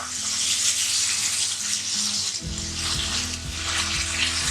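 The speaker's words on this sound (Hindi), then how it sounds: "डब्बे से निकालने के बाद भी छाननी में डाल के इसको अच्छे से धो लें" Dried fenugreek leaves are rinsed in a sieve under a running tap, a steady close rush of water with a hum underneath.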